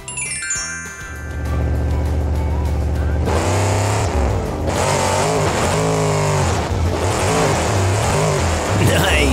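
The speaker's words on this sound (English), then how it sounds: "The heavy monster truck really smushed those first two cars!" A heavy monster truck roars steadily as it drives over and crushes cars, a loud, continuous engine growl with surging revs throughout.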